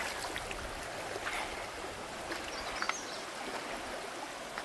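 Cold stream water flows and splashes over stratified rocks in a wild backpacking area, a close, steady rushing burble with small bright splashes and no speech.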